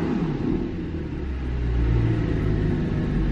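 Salvage Audi R8 engine idling with an app-controlled exhaust switched on, giving a steady deep rumble that swells slightly partway through, close and loud with no talk.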